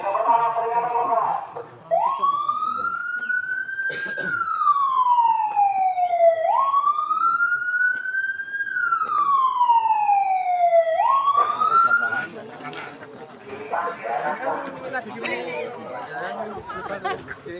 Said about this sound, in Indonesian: silakan bunyikan sirine pertama, peringatan pertama